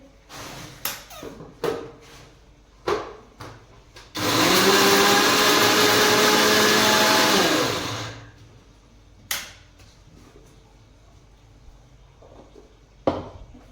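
A kitchen mixer grinder grinds ingredients fine in one loud, steady whirring burst of about four seconds, with scattered clattering knocks and taps of kitchen work before and after.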